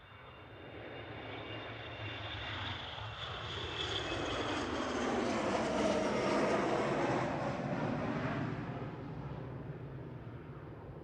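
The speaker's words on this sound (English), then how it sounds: "Logan Air departing in parallel, GSAJI and ERJ145 is heading to Newquay with flight 25" A Logan Air Embraer ERJ145 jet departs Manchester Airport, its engine roar swelling to a loud peak and then holding as it climbs away, heard from outdoors.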